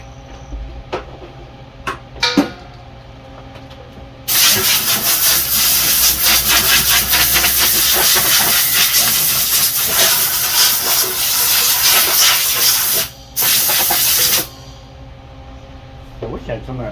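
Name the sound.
pneumatic air gun on snowblower belt repair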